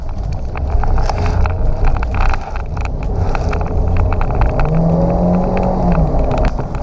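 An automatic car rolls downhill with rising engine and road rumble, loud and steady throughout, with a brief tonal whine near the end and no talk.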